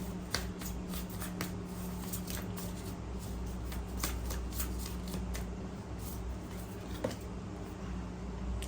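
A deck of tarot cards is shuffled by hand, giving soft continuous riffling and papery shuffles with scattered sharp snaps of cards against each other, close and quiet over a low background hum.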